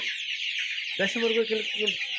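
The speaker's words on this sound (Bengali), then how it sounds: "এখানে লক্ষ্য করে দেখবেন কিছু দেশি মুরগিও রয়েছে" Bahama and local desi chickens cluck close by in a short run of rhythmic calls that stand out over a constant high-pitched background hiss.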